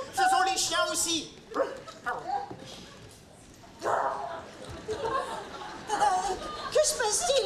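Several voices bark and yip in imitation of dogs, in bursts with brief pauses, some laughter mixed in.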